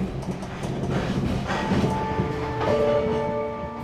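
A passenger train travels overnight through Vietnam between Hanoi and Ho Chi Minh City, its steady rumble and wheel clatter continuous, with faint metallic tonal squeals rising partway through.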